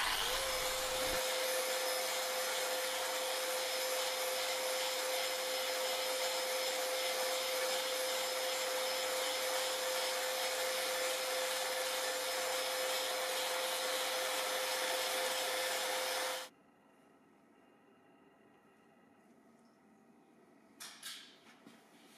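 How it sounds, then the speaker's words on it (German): Fine sanding of a sheet-metal surface with a 1000-grit sanding pad before polishing: a steady, loud, broadband rushing hiss with a constant tone running for about sixteen seconds, then cutting off to near silence with a brief faint rustle near the end. "Mit einem 1000er Schleifpad erhält die Oberfläche den letzten Feinschliff vor dem Polieren."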